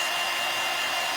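A hair dryer blows on a painted wood shim angel craft, a loud, steady close whoosh running without break and alone.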